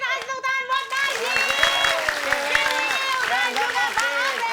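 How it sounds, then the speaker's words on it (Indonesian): A studio audience at a TV comedy show claps steadily in applause for Narji, a dense crackle sustained throughout, while voices talk and call out over it. "kita kasih tepuk tangan buat Narji"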